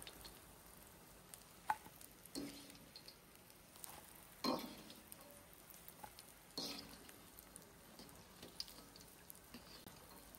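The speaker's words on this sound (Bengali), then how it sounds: "এই যে দেখেন ভেন্ডিগুলো একেবারে আপনার ফ্রাইয়ের অবস্থানটা জাস্ট পোড়া যাওয়ার একটু আগ মুহূর্ত পর্যন্ত ফ্রাই করতে হবে" Okra (lady finger) frying crisp in hot oil: a faint, steady sizzle broken by occasional soft crackles and brief clinks, close but quiet, with no voices.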